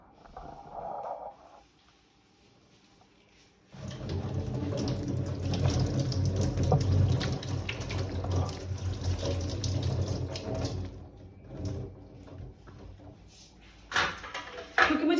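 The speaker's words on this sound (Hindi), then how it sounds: "तो चलिए हम तरबूज को पहले धोते हैं और धोने के बाद" Watermelon washed under a running kitchen tap, a steady splashing water stream that starts after a brief quiet opening and continues with fluctuating gurgles, while a voice speaks briefly near the start.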